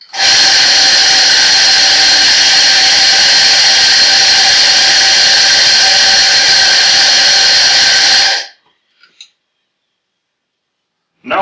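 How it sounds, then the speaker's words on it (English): On-demand espresso coffee grinder whirring loudly and steadily for about eight seconds, then cutting off abruptly into near silence. "So I'm going to start grinding."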